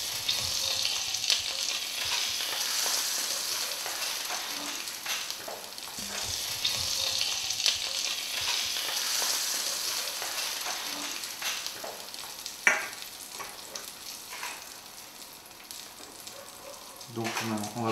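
Duck foie gras escalope frying in a hot pan: a continuous crackling sizzle with bursts of spitting fat, close and steady, broken by occasional clinks of a utensil against the pan.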